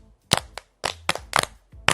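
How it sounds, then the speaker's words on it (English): A round of applause in an animated film comes as a handful of sharp, separate hand claps, loud and close, in an uneven rhythm with short silences between them. "Give her a round of applause."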